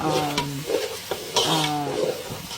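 Onions and chopped tomatoes sizzling and frying in a pan with stirring scrapes, while a pitched, rhythmic tone also sounds briefly in the background.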